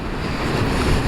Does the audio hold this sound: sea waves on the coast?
yes